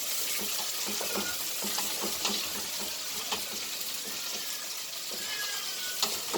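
Onions and green pepper frying in a pan make a steady, bright sizzle with a continuous crackling hiss and occasional stirring scrapes, close and even throughout.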